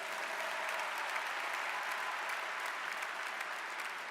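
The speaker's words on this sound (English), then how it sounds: "Let's have a round of applause for them as well." Steady applause from a large audience fills the hall at a college commencement ceremony, a dense continuous clapping that stays even from start to finish.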